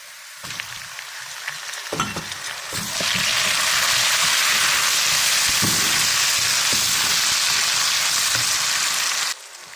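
Onions frying in a pan for aloo methi, a steady loud sizzle that swells after a few clicks and stirs and holds continuously before cutting off near the end.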